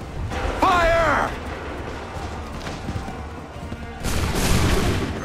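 A musket volley in the Assassin's Creed III video game: a sharp shouted call comes first, followed by a pause and then a loud ragged burst of gunfire that roars on and trails away.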